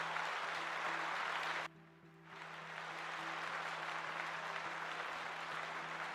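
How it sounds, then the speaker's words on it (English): Steady applause from an audience at a tabletop game homebrew review session, continuous clapping that cuts out abruptly for about half a second before resuming at a slightly lower level, over a faint low electrical hum. "let's give Data a round of applause"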